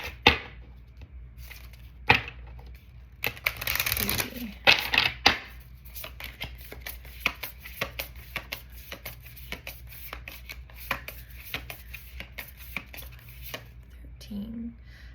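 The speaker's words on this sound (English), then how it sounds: "we'll go 13 cards down. Shuffle 3 times." Tarot cards being shuffled and riffled in quick papery bursts, then a steady run of light taps as cards are dealt down one by one, close by.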